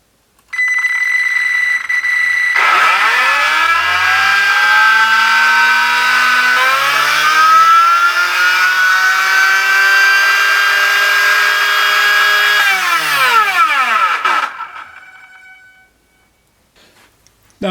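An RC electric motor on a Minipro dyno, driven by a Tekin ESC, spins up with a rising whine, holds a high, steady electronic tone, then ramps down under braking to silence; loud and close, no speech.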